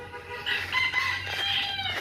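Chickens near a rural home, a rooster crowing and hens clucking at moderate distance over a low steady background hum.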